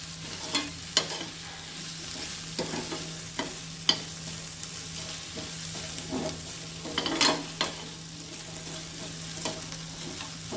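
Vegetables are sautéed in a pan for a mutton keema vegetable gravy, giving a soft steady sizzle under repeated sharp spatula scrapes and clinks against the pan, with no talking.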